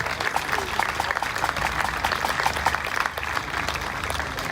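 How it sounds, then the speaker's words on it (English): Applause from a crowd at the opening of the Peak District Highland Games 2022 at Matlock Farm Park, a steady dense patter of clapping sustained throughout with a voice faintly present underneath. "Round of applause please."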